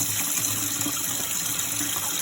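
Water runs steadily from a kitchen tap into a bowl at the sink while rice is rinsed and stirred, a constant close gushing wash with faint swishing.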